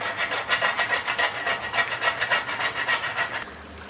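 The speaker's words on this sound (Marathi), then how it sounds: "थोडंसं अगदी जायफळ खिसून घालायचं आहे" Whole nutmeg scraped against a grater for a Marathi vajri lapeta dish, a quick, even run of about a dozen close, bright rasping strokes that then stops.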